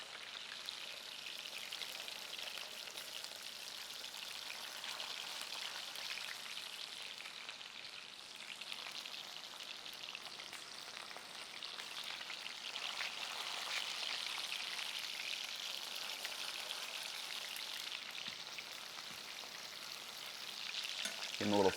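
Chapli kebab patties fry in beef fat, making a steady, soft hiss and crackle that runs unbroken throughout with a slight rise near the end, and no voices.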